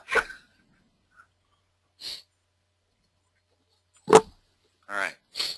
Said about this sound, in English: I think I'm done sneezing.